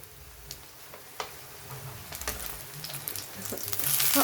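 Eggplant slices sizzle and pop in hot oil, scattered crackles building into a louder, steadier fry toward the end.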